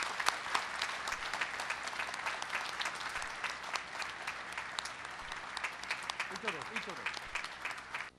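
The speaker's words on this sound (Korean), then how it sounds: "뜨거운 박수로 맞이해 주시기 바랍니다" Sustained applause from a large audience at a university graduation ceremony, greeting honorary doctorate recipients as they come to the stage; dense, steady clapping fills the hall throughout, with a faint voice near the end.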